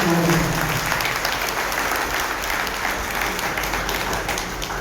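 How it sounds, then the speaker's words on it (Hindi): Steady, loud applause from an audience at a seed traders' protest gathering, continuous dense clapping for about five seconds with a faint voice underneath early on. "तालियां बजाते हुए"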